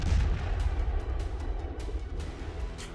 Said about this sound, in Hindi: इन्हीं खाइयों से तोप के गोले लेकर रूसी सैनिक आते हैं, मशीन में लगाते हैं और फायर करके फिर बंकर में चले जाते हैं।